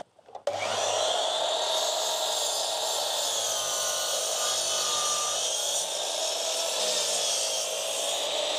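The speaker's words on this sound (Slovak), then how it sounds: "Idem si teraz zarovnať tento jeden koniec, takže mám tu už pripravenú pokosovú pílu" A miter saw spins up abruptly and cuts through a planed wooden beam, a loud sustained whine with a rasping bite into the wood that holds steady for several seconds, with no speech.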